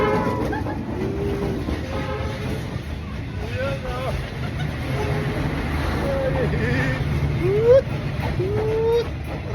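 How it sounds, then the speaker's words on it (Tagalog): A train passes close by, a loud continuous rumble with rising whining tones, while people talk excitedly over it. "Ayun na, yun na yung train. Ayan na yung train."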